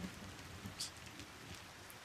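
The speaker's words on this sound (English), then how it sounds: "The rain splashing, my mother's labored breathing, and the sound of a mandrake screaming." Steady rain splashes and patters on surfaces in the rainy scene of the 2.5D metroidvania game Mandragora, a dense continuous wash with a faint distant rumble beneath.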